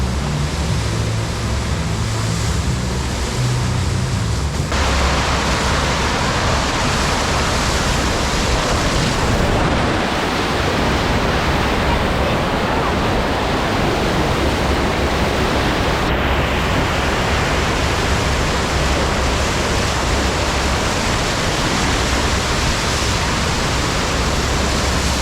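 A FlowRider wave machine at a Cancun resort pours out a continuous, heavy rush of surf water, loud and unbroken throughout, with no voices over the roar.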